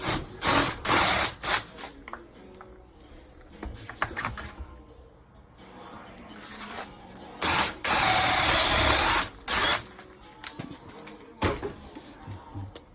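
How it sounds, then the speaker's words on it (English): Drill whirs out a seized, broken bolt on a car's AC compressor in short, loud bursts with pauses between them, close up, alongside ratcheting and mechanical clicks. "now we got the both sides drilled out"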